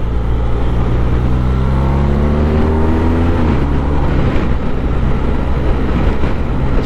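A motorcycle engine blips its revs during a rev-matched downshift to fourth gear while slowing for a junction, a steady loud engine drone whose pitch climbs and settles over several seconds.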